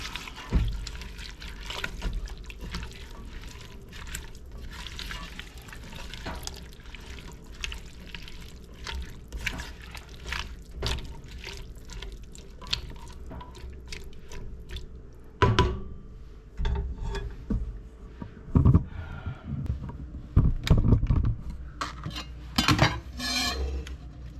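Cabbage soup gets stirred in a pot, a spoon scraping and clinking against the sides with wet sloshing. The stirring comes in irregular strokes, louder and sharper toward the end.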